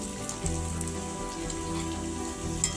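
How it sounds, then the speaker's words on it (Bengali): Vegetables for vegetable chops frying in hot oil with a little salt, a steady close crackling sizzle with a few brief pops throughout, no talking. "তেলের উপরে এটা আমি সেদ্ধ করে নেবো, তেলেতে ভেজে এটা সেদ্ধ করে নেবো"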